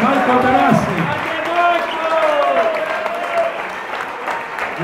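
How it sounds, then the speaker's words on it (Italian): Sustained applause and cheering from a crowd at a Parma football supporters' club party, welcoming a player, loud and close with voices mixed in. "Un grande applauso per un giocatore che questi anni tanto dato al Parma, Marco Materassi."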